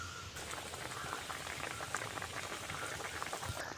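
A tamarind curry bubbles steadily in a pot, a soft, continuous simmer with dense small pops heard close up and with no talking.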